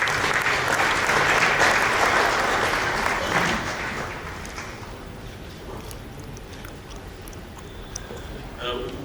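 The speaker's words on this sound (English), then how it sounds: "Can we clap hands for Gianni Infantino?" Audience applause at a football event for the FIFA president, loud dense clapping that swells for a few seconds and then fades to a quieter patter.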